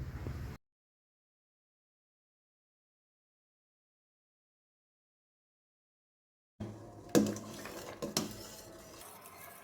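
Coconut milk being stirred in a cooking pot, made while preparing a banana dish, giving clinks and scrapes of a utensil against the pot after a long silent gap, with a few sharper knocks.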